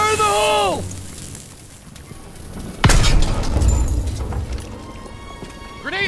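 A grenade goes off in Call of Duty: WWII, a sudden loud blast in a battlefield setting that cracks sharply and then leaves a rumbling tail, with a horse-like whinny before and after and voices shouting around it.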